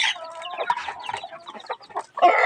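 A hen with four young chicks clucks close by in soft, repeated bursts, mixed with thin high peeps from the chicks, with no talking.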